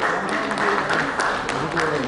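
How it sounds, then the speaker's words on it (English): A conference hall audience applauds a speaker at a banking and finance event, a dense, steady wash of clapping heard from a distance with no pauses. "A round of applause for Mr. Ghosh."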